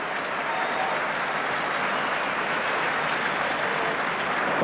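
Sustained applause from the Roland-Garros crowd at the 2005 French Open men's final between Nadal and Puerta, a dense even wash of clapping that holds steady throughout.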